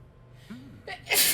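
A single sneeze comes sharply out of a short breathy gasp, close and loud, with a quiet room hum underneath.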